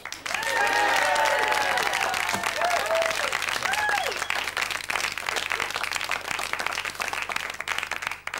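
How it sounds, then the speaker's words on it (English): Loud, sustained applause from a radio show's studio audience fills the stretch, dense clapping that tapers slightly toward the end, with voices and whoops briefly rising over it early on. "a big round of applause"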